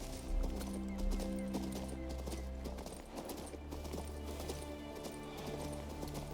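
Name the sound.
horse galloping hooves in Kings Bounty 2 video game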